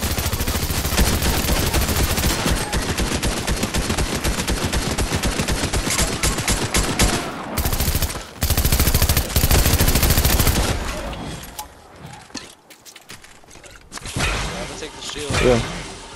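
Rapid, loud automatic gunfire rattles almost without pause in Fortnite, aimed at a llama, then thins into scattered single shots and thuds.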